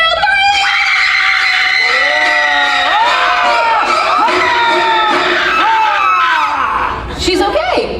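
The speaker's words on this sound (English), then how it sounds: "Take a look at the side screens, everyone, and scream on 3, Jaden." A theme park special effects show audience screams loudly together on cue, a dense sustained wall of shrieks and yells from many voices that holds for several seconds before tapering off.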